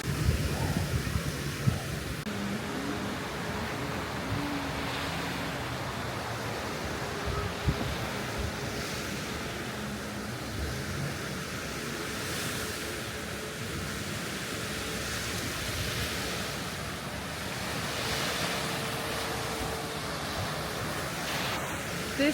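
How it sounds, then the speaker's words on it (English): Waves wash steadily onto a beach on Phu Quoc Island, Vietnam, a continuous broad surf roar with gentle swells and some wind noise, heard alone without talking. "This beach is beautiful."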